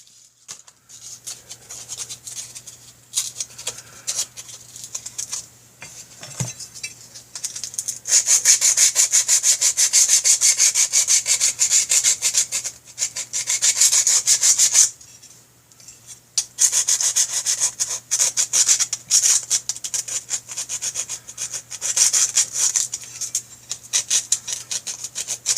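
Emery cloth rubbed by hand across the top cover of a Big Dog motorcycle oil tank, scratchy abrasive strokes coming in bursts with brief pauses, close and fairly loud, with a steady low hum underneath.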